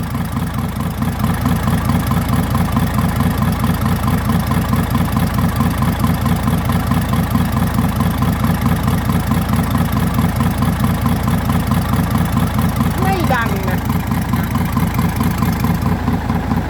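A car engine with no turbo fitted idles steadily and loudly, a continuous low rumble with an even mechanical pulse that barely changes from start to finish.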